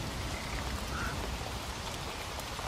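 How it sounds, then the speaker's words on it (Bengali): Rain pours steadily in a cartoon village scene, a dense, even hiss of falling drops with no gaps, moderately loud and with no voices over it. "আজ সকাল থেকে ঝড়ো ঝড়ো করে বৃষ্টি পড়ছে।"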